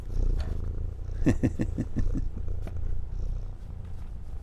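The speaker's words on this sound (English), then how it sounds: "do a little purring in the mic for him" A cat purrs steadily and close up, a low continuous rumble with a brief run of quick pulsing breaths partway through.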